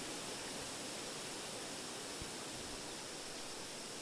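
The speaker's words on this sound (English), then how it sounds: "We're in a rainforest." Rainforest ambience built for sound design: a dense, even wash of broadband noise, like steady rain or rushing water, fills the whole stretch at a soft level with no break.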